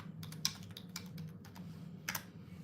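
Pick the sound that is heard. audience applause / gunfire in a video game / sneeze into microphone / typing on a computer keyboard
typing on a computer keyboard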